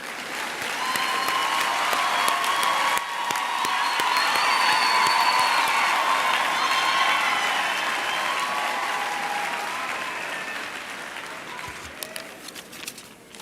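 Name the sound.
audience applause at a graduation ceremony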